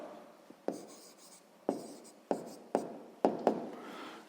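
A pen writing an answer by hand on paper, a few quick scratchy strokes separated by short pauses, close and quiet in an otherwise still room.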